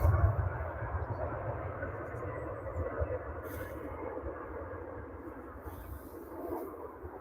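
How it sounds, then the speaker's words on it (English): A gold Boeing Dreamliner airliner arrives at Manchester Airport, heard as a broad, rumbling jet roar that swells early and then fades steadily, with faint talk in the background. "the arrival of the gold Dreamliner against a golden Manchester sky"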